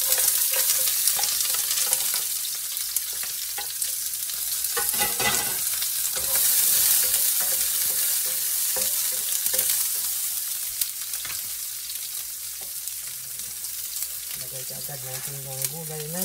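Chopped onion sautés in a hot pan with shrimp and vegetables, sizzling loudly and steadily close by while it is stirred now and then.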